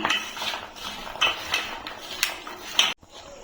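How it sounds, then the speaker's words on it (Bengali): A spoon mixing ground coriander, cumin powder and other spices in a bowl, a quick series of light metallic clinks and scrapes at an uneven rhythm, close and moderately loud, ending abruptly. "সব কিছু দিয়ে আমি একটু মিশিয়ে নিচ্ছি"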